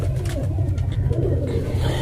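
Pigeons inside a rooftop loft coo in a continuous low, throaty murmur, close and fairly loud, with overlapping calls filling the space.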